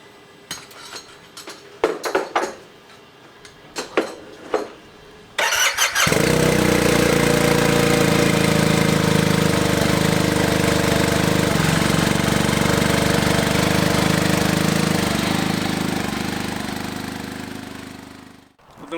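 A Speed UTV El Jefe off-road side-by-side cranks after several seconds of clicks and knocks, then its engine catches and runs loud and steady at close range, a dense continuous rumble that slowly eases before stopping.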